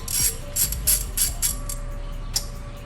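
Ratchet wrench loosening a 17mm bolt on a turbo oil feed line during an aftermarket braided-line install, a series of close, sharp ratcheting clicks in quick bursts, then quieter.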